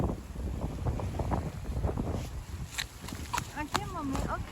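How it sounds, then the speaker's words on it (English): Wind gusts through a blizzard snowstorm, a heavy low rumble buffeting the microphone throughout, with people talking and a voice heard over it. "It's just the wind"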